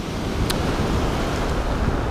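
Sea waves wash against an eroding shore of pebbles and loose material, a continuous close hiss and churn of surf mixed with wind buffeting the microphone.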